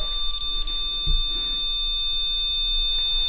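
A REM pod gives off a steady electronic alarm tone aboard the USS Batfish submarine during a paranormal investigation, a continuous high beeping drone that holds for several seconds over faint room noise.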